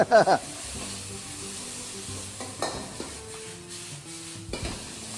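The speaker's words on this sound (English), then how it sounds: "This is the wok, hey, the sizzle." Marinated chicken sizzling in a wok over high heat, a continuous frying hiss with occasional scraping and clinks of a utensil against the pan.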